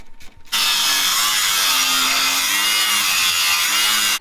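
A power saw cuts through a metal outer pulley on a drive shaft, a loud, continuous high grinding that starts abruptly after a brief knock and runs for almost four seconds.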